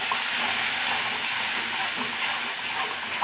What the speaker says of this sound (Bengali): যাতে না মশলাটা ছুঁয়ে যায় তার জন্যে দিয়ে দেব জল